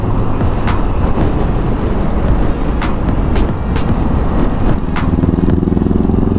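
A Honda CBR500 motorcycle rides past on an open road, its engine a steady loud roar with rushing wind noise throughout, and the pitch climbing slightly near the end.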